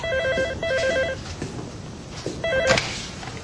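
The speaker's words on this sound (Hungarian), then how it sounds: "Gyerünk, Tess, vedd már fel." Telephone bell ringing in short repeated electronic bursts at a cattle station, several trills then a pause and another ring, fairly loud with faint background noise and no talk.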